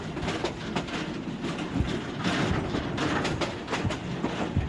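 A local train from Dhaka to Mymensingh rolls steadily along the tracks, wheels clacking in a rhythmic pattern over a continuous rumbling roar, heard close from inside or beside the carriage.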